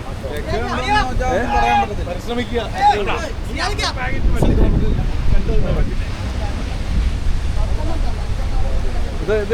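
Roaring surf rushes and crashes close by against coastal houses, with wind buffeting the microphone and people talking over the steady wash of the waves.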